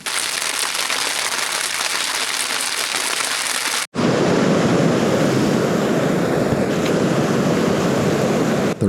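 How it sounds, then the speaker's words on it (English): A river swollen and flooded by heavy overnight rain in the New Mexico mountains rushes in a loud, steady roar; a brief cut near four seconds gives way to an even fuller, closer torrent that continues without voices. "The rain from the previous night completely flooded where we were fishing."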